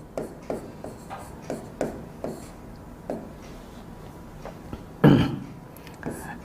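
Marker or chalk writing names of chemistry cations on a board, a series of short scratchy strokes at a steady rhythm, fairly close, with one louder tap near the end and no talking.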